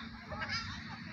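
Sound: birds honking

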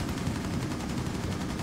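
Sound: gunfire in video game Rainbow Six Siege

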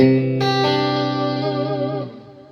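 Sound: electric guitar clean tone

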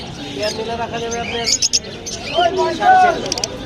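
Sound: lovebirds chirping at a bird market

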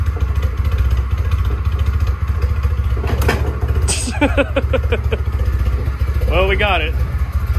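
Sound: 1988 Volvo 240 engine running at a rough idle

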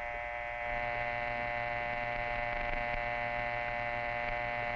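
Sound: telephone dial tone hum

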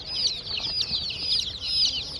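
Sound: chicks clucking

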